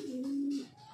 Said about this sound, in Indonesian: terus ada beberapa merpati lagi yang sedang jirin juga